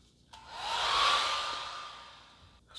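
A hair dryer blows steadily with a broad whooshing hiss and faint motor whine, swelling louder then easing off, with no talking.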